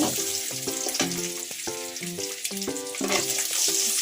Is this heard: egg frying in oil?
yes